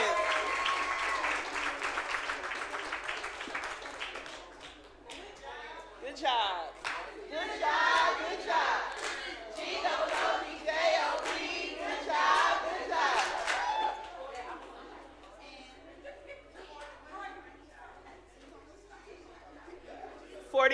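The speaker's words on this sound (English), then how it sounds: "let's clap it up for our state champions" An audience applauds and cheers for state champions at a school board meeting, a sustained burst of loud clapping with whoops and cheers that fades and swells again, talk mixed in.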